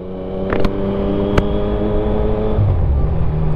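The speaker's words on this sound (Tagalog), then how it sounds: "Painitin lang natin yung motor." A motorcycle engine idling steadily as it warms up on a holiday morning, a close, even low rumble with a couple of brief clicks and no talk.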